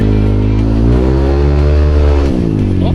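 Motorcycle fitted with an MTRT Evo2 exhaust revs close up with a deep, bassy drone, engine pitch rising and holding before dropping off, loud and continuous with no talking.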